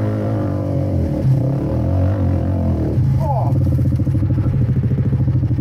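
A quad bike engine droning steadily through playback, a low rumble that revs up and turns into a rapid pulsing idle near the end, with a voice talking over it.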